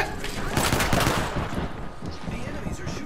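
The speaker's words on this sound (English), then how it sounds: "The enemies are shooting at me." Enemy gunfire in a video game comes in a fast, loud automatic burst, then thins into scattered, fainter shots and echoing tail.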